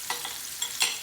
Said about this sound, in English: I really want to cook these onions gently.